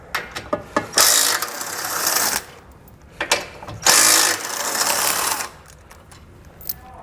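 A hand ratchet with a 15mm socket clicks rapidly in two sustained runs, with brief scattered clicks between them, while removing bumper beam flange bolts during a base plate install on a 2021 Jeep Cherokee.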